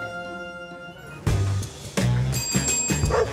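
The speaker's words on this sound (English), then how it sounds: "The bell is the call to action." A sharp bell rings out three times in quick succession, bright and loud, each strike ringing on briefly before the next.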